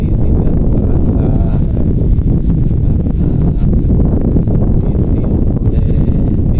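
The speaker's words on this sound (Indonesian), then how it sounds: "karena tiupan angin yang luar biasa, semilir angin aman ya" Strong wind at the hilltop summit of the Penataran temple site in Blitar buffets the microphone with a loud, continuous, roaring rush that never lets up.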